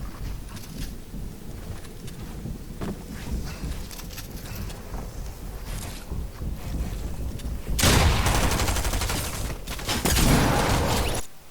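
Fortnite battle royale gunfire with SMG bursts amid chaotic game noise, a dense rumbling clatter that grows louder and harsher toward the end.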